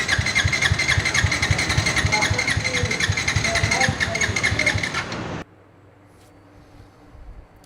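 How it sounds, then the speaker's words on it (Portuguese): A motorcycle with a failing engine that has lost all compression runs rough and loud for about five seconds, then cuts out abruptly, leaving only faint background noise with a small click near the end. "Essa moto deu ruim no motor, cara. Perdeu a compressão todinha. Começou a fazer um barulho estranho."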